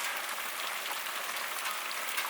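Steady rain falls outside a shelter hut by a lake in Finland, a dense, even hiss of drops on surfaces that holds constant throughout with no voices.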